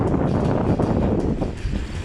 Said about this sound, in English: Sorry, but it's a bit windy out here, but it's absolutely beautiful.